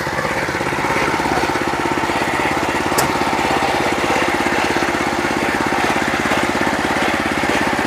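An 8hp power tiller engine runs steadily nearby in a continuous, rapid chugging rhythm at an even level, with no talking over it.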